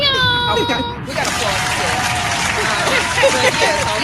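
A crowd breaks into applause after a short stretch of musical tones, the clapping dense and steady for the remaining seconds, with scattered cheers and voices mixed in.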